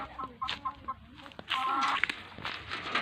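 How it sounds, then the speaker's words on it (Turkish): Several chickens cluck and squawk nearby in short, irregular bursts, growing busier toward the end. "Burada da tavuklar var."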